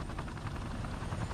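A helicopter in the war video game Call of Duty Modern Warfare Remastered gives a fairly faint, continuous rotor thrum with rhythmic blade pulses and a low engine rumble, heard on its own without talk.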